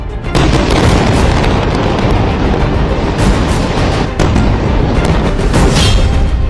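Blasts from Israeli strikes on Gaza, loud and dense, with a sustained rumbling roar punctuated by several sharp booms over a few seconds.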